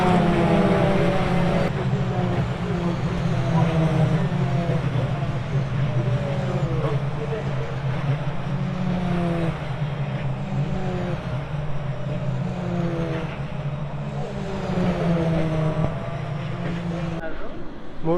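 Race cars pass continuously on the 24 Hours of Le Mans circuit, a loud, sustained engine roar that rises and falls as cars go by in quick succession.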